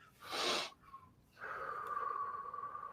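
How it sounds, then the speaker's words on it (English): Two quick deep breaths drawn in, a short broadband rush followed by a softer catch, then a long steady exhale that holds under close, quiet room tone. "you breathe in deeply but fast, and then you make a second breathe in very quickly as well, right, to fully expand your lungs"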